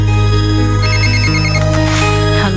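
A telephone rings with a loud electronic ringtone, a sustained melodic warble of stacked tones running on without pause and alone in the mix.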